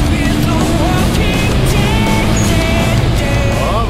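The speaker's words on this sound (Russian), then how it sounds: "вы слышите турбину" Homemade replica of a Lamborghini Diablo with a turbo, its engine and turbine whine droning loud and steady throughout, thick low rumble with rising and falling whistles on top.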